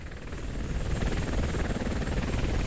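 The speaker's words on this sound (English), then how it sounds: "That's a helicopter." Loud, steady helicopter rotor noise in a Muv-Luv Extra visual novel scene, a dense low thumping drone that holds constant throughout with no voices.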